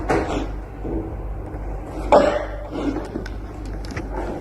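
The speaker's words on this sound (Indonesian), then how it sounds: "saya sedang batuk" A few scattered coughs and throat-clearing sounds, one sharper cough near the middle, over a low background hum.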